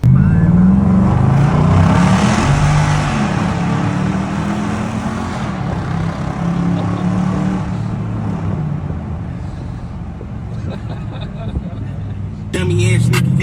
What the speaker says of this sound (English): I'll put a sound clip of the exhaust